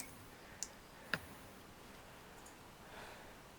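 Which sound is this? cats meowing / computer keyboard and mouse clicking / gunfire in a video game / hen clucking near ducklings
computer keyboard and mouse clicking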